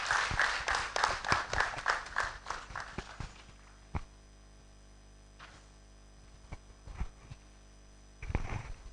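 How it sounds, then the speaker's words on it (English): Applause from an audience at a university research awards and grants ceremony welcomes the Vice Chancellor, Professor Johnson Nyakun Bwampong. It comes as a few seconds of moderately loud clapping that dies away into a quiet hall, then a brief renewed burst. "With a round of applause, let's welcome Professor Johnson Nyakun Bwampong."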